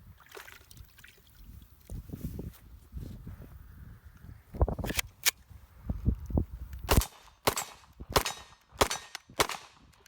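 HK VP9 handgun fired just after being dunked in water, several sharp reports in a rough, irregular sequence, with soft splashing and handling noise between shots; shots cluster toward the end.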